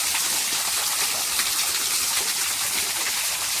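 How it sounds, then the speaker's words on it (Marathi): Water pours down into a small stone-dammed pool in a stream, a dense, steady, close-up gushing rush that holds constant and fills the whole short stretch. "किती मस्त पाणी पडतंय बघा"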